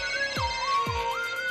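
A phone ringtone plays a short electronic tune with sliding tones and a steady note, clear and close, with no talking.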